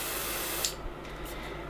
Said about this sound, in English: let's see what happens when I spray a little bit of deodorant near the unit